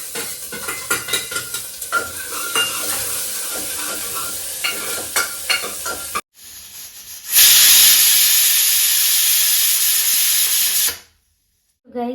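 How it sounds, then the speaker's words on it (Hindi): Stirring clatter in a pan gives way to a loud, steady sizzle as cumin seeds hit hot oil for a dal tempering, hissing strongly for a few seconds before cutting off. "इन जीरे का तड़का लगा के"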